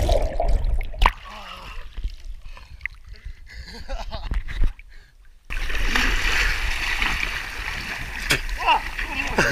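Someone jumps and splashes into cold sea water off northern Norway, with broadband watery splashing and sloshing that grows louder and busier in the second half, close by, with voices present.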